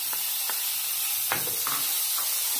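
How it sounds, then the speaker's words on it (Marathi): Khoa (milk solids) roasting in a hot kadhai for basundi, giving a steady soft sizzle with a few brief scraping stirs, close and moderately quiet. "कढई गरम झाल्यानंतर याच्यात खवा टाकून घेणार आहोत।"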